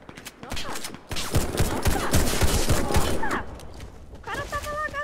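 Rapid bursts of automatic gunfire from the shooter video game Warface crackle in dense, uneven volleys, with loud thuds and other game sounds mixed in.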